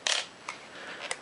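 A camera shutter firing at 1/500 second makes a sharp mechanical click up close, followed by a few fainter clicks and soft rattles of the mechanism.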